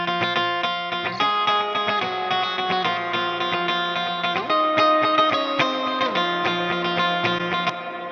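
A guitar plays sustained chords through long, wide reverb with the low rumble cut away, the notes blending into a continuous wash of sound.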